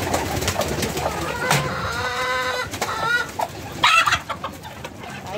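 Domestic turkey hens cluck close and loud in a run of quick, uneven calls, with pigeon-like cooing mixed in.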